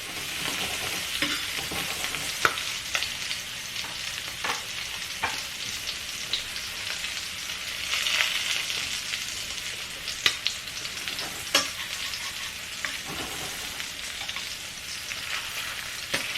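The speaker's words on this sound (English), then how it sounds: "add a little bit of butter. And see how it sizzles a lot?" Steady, close sizzling and crackling of butter frying in a pan with sweetbreads, with scattered sharper pops throughout and no talking.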